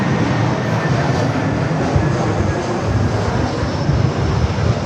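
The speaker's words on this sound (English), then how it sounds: "Frontier A321, next arrival here on the north." A Frontier Airbus A321neo jet arriving at LAX's north side gives a steady, broad roar of engine noise, loud and close, holding evenly throughout without voices.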